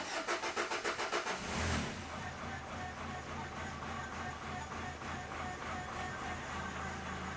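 A 2013 Nissan MV200 van with fault codes P0190 and P0087 cranks for about two seconds in a steady rhythmic chug. Then it catches and settles into a continuous running drone.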